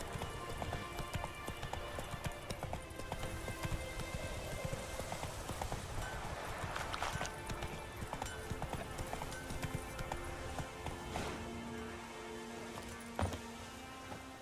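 Horse hooves in The Witcher 3 clop at a steady running rhythm over a rushing, rain-like ambient bed, fairly quiet and continuous with occasional louder knocks, no talking.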